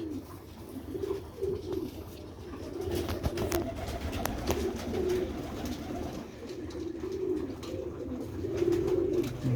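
Old purebred Sialkoti pigeons give repeated low, throaty coos near the listener, a steady rolling series with light clicks and rustles in between.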